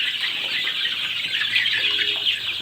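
Young Egyptian Fayoumi chicks, about six weeks old, peep and chirp on a poultry farm holding some 900 birds; a dense, continuous chorus of high calls fills the background.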